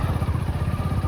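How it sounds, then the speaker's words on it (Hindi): Motorbike engine running after being started at a petrol pump, giving a close, steady low putter with a quick even pulse over a brief stretch. "ये देखो उसमें अब हो चुकी है अपनी बाइक स्टार्ट।"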